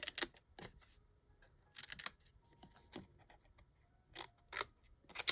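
Small snips cutting paper in fine detail give short bursts of crisp, close clicks and crunches, separated by quiet pauses, faint overall and with no talking.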